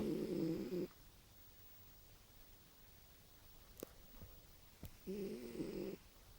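A sleeping cat snores softly, with two raspy inhales several seconds apart and faint quiet breathing between them.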